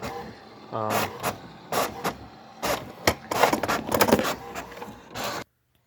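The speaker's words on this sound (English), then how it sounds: "you'll see how the rollers basically drop and they pick up the paper" An HP 7510 inkjet printer feeds paper as its rollers drop and grab the sheet, giving a close series of whirring motor runs, clicks and mechanical clatters before stopping abruptly.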